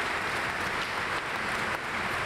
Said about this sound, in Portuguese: Bombeiros, policiais e socorristas foram aplaudidos.